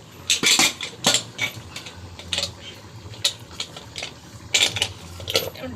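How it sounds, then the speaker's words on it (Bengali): Mutton being worked together with a little oil in a pot, giving scattered clinks and scraping knocks of utensil against metal at varying loudness, with no one talking. "তাই ভালো করে মাখিয়ে নেব।"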